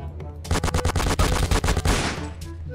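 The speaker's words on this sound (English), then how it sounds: "I am firing at you, emptying my mag, and you haven't died." Rapid automatic gunfire from a Roblox video game as a magazine is emptied: a loud, steady burst of about a dozen closely spaced shots lasting around a second and a half, then silence and a faint click.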